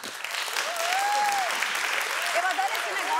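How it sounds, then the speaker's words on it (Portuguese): Audience applause on a Brazilian talk show stage, clapping heard under voices and whoops that rise and fall throughout the short stretch. "Ele merece tudo, inclusive uma salva de palmas."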